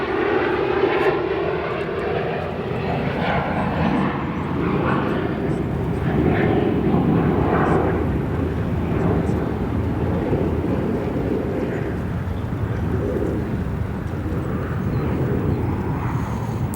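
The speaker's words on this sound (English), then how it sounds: "we'll let you listen to the reversers on this Airbus 321 operated by Spirit" A Spirit Airbus A321 lands at Chicago O'Hare with its thrust reversers deployed, a loud sustained jet roar that surges and rumbles for several seconds, with a voice talking over it.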